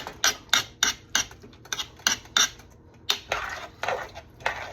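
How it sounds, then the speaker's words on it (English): Utensil scraping and knocking in a pan while stirring Mexican rice, a series of short clinking strokes in an irregular rhythm, close and fairly quiet with no talking. "You want to stir that up."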